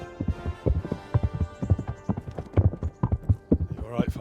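Horse hooves clip-clop in Kingdom Come: Deliverance, a steady run of close, distinct hoofbeats throughout, with a voice talking over them and a brief bright rustle near the end.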